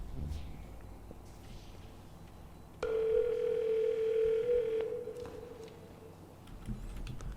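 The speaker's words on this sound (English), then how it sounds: "This is a loud-ass phone." A loud telephone rings in the space-station game Space Station 13, a sustained electronic tone that starts abruptly, holds for about two seconds, then cuts off over faint background noise.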